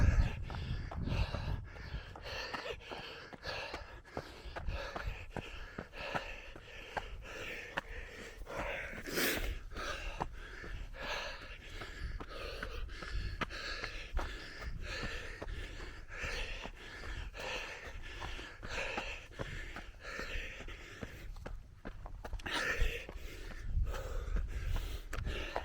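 Heavy, rhythmic breathing from a runner on a hilly trail, ragged gasps and snorts continuing steadily close to the microphone throughout, with rustling footfall noise underneath.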